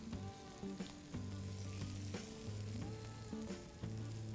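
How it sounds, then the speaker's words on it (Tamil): Sliced onions fry with spices in a pan for a set dosa and vadacurry recipe, giving a steady, close sizzle with intermittent stirring scrapes throughout and no talking. "இங்கே போட்டிருக்கிற எல்லா இன்க்ரீடியன்ஸ் கூட போட்டு இதை நல்லா ஃப்ரை பண்ணுறேன்"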